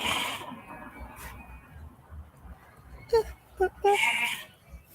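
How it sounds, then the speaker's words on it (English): Goats or sheep bleat several times in short, fairly close calls on a small road in Ghana, heard alongside a background of outdoor hum and a voice speaking. "I don't know if they goat or sheep."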